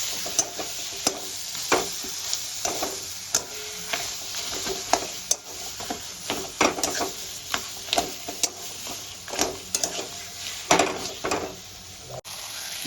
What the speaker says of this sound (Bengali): মশলার সঙ্গে ভালো করে মিক্স করে নেব।